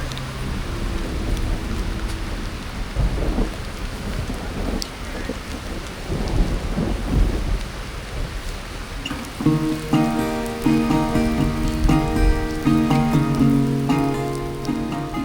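Heavy rain pours steadily on a Thai coastal trip with rumbling thunder beneath, loud and continuous; partway through, music rises over the downpour.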